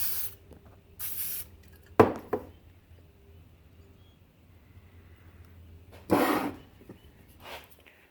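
An aerosol can of WD-40 lets out several short hissing sprays in a quiet room, with brief pauses and a sharp knock or two between bursts.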